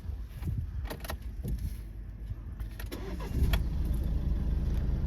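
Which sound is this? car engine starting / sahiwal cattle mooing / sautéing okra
car engine starting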